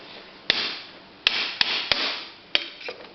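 A metal hammer strikes a part on a Harley motorcycle, giving several sharp, close whacks at uneven intervals over a steady low hiss.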